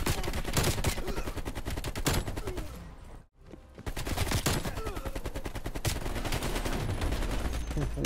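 Dense rapid automatic gunfire from hip-firing in the video game Black Ops Cold War, loud continuous bursts broken by one brief pause, then resuming at full intensity.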